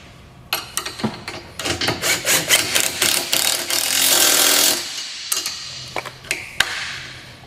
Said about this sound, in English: you can take a 14 wrench on one side and a 14 socket on the other side and just go ahead and tighten